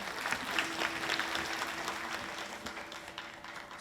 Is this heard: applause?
yes